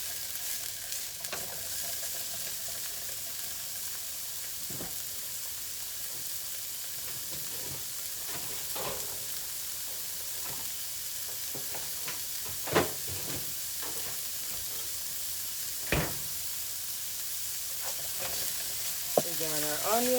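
Diced onions sizzling in a heated pan for a risotto, a steady soft frying hiss broken by occasional stirring scrapes and clinks, close and fairly quiet with no talking.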